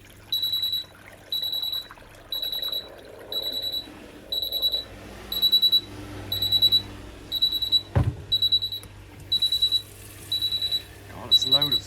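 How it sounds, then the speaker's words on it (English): A Miele Novotronic W1613 washing machine sounds its F63 technical fault alarm, a loud, shrill electronic beeping in regular repeating bursts like an alarm clock, with a thump and water trickling partway through. "Sounds like an alarm clock. Technical fault F63."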